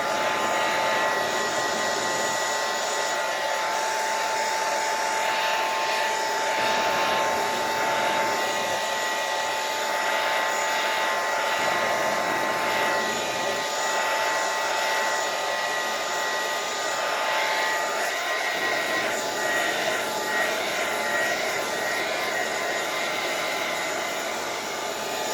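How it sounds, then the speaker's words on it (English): A blow dryer runs nonstop at close range to dry mixed media craft work, a loud steady whir with a constant high-pitched whine, its low rumble fading in and out as the dryer is moved, and nobody speaking. "Let me get my blow dryer out because I need to dry this a little bit"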